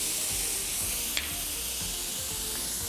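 Minced meat and a spoonful of finely chopped onion fry in a pan with a soft, steady sizzle and hiss, broken once by a brief utensil clack, close and without talking.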